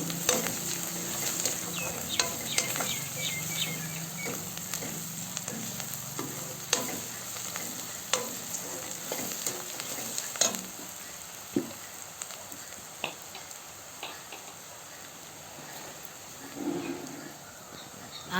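Chopped onions with a pinch of turmeric fry in a pan and are stirred, giving a close, steady sizzle with scattered spatula scrapes and clicks throughout, no voices.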